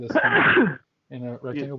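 A single close, loud sneeze bursts out at the start, then a short pause before a person resumes talking.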